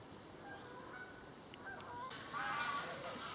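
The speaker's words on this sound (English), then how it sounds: "I can hear geese and ducks in the background" Geese and ducks honk faintly in the distance near a river, their calls thin and scattered over a steady outdoor hiss, growing slightly busier toward the end.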